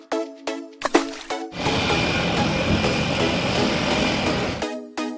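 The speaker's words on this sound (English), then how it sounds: "Seaplane." A toy seaplane's engine roars as a loud, steady buzzing drone with a thin whine on top, lasting about three seconds between stretches of background music.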